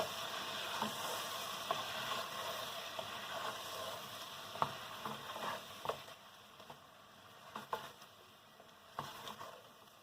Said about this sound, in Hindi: इनको 1-2 मिनट के लिए हम फ्राई करेंगे